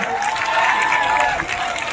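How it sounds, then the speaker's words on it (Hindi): Audience at a political rally in Jaunpur claps loudly to welcome a speaker, a dense, steady burst of applause lasting about two seconds with faint crowd murmur. "बड़े भाई एक बार ताली से एकदम जोरदार तालियों से स्वागत किया जाए।"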